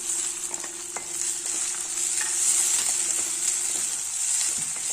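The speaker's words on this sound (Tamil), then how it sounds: "நல்லா வதங்கட்டும் வெங்காயம் தக்காளியெல்லாம் ஓரளவு வதங்கி" Onions and tomatoes sauté in a pan for a black-eyed pea rice dish, giving a steady, close sizzle with occasional soft scrapes of a spoon stirring, no voices.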